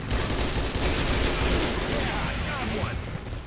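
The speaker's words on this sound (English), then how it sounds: "really we're being shot" Rapid gunfire rattles continuously through an online multiplayer shooter game, dense and loud throughout, with a player's voice talking over it.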